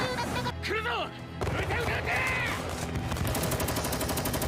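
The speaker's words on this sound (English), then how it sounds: "Airburst rounds." Airburst rounds exploding over a battle in the Youjo Senki (Saga of Tanya the Evil) anime, heard as a dense, continuous barrage of blasts and gunfire under a music-laden soundtrack, with voices over it.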